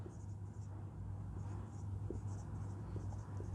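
Writing on a board during a maths lecture, a steady close scratching and rubbing with a few faint taps, over a low background hum.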